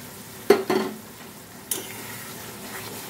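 Melon seed paste stirred into frying masala in a pan: a couple of sharp spoon knocks and scrapes over a low, steady sizzle, with no talking.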